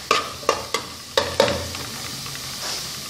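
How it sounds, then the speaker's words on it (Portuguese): Rice is sautéed in a hot pan with a soft frying sizzle, punctuated by several sharp spoon knocks against the pan in the first second and a half. "A gente refoga."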